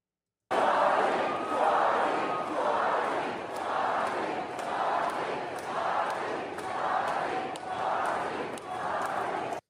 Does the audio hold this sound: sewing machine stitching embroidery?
no